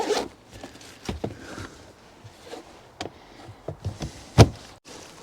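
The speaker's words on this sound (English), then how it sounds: "I'm going to zip that up properly again." A zipper is drawn closed on a bag of accessories kept in a Porsche Cayenne S, in a series of short rasping pulls and handling knocks, close up with no talking.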